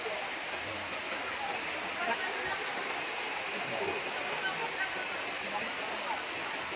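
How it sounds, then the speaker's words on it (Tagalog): River water at Bato Spring in San Pablo, Laguna flows in a steady, broadband rushing wash, moderately close and continuous, with no talk over it. "Ito naman isang parang ilog."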